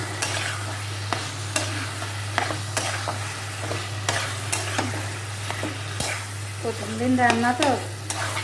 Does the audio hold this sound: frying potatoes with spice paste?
yes